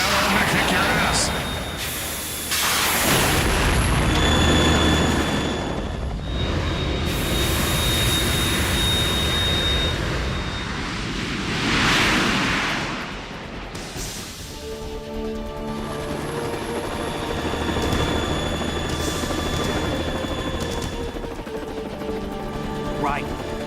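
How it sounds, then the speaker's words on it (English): Harrier jump jet in the video game Metal Gear Solid 2, a roaring jet engine with booming gunfire and explosions, loud and continuous throughout, with game voices talking over the action. "You have to shoot the Harrier down."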